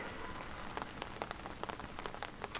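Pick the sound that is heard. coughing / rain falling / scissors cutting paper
rain falling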